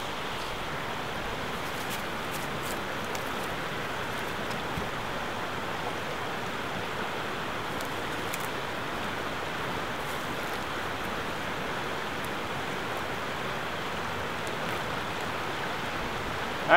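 Water rushing steadily through pipes from a homemade river pump, a constant broadband hiss and splash that stays even for the whole stretch, with no speech.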